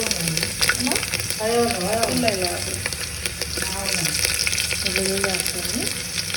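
Crushed garlic is dropped into hot oil already holding cumin, and it fries with a loud, steady, close sizzle throughout, while a faint voice murmurs underneath.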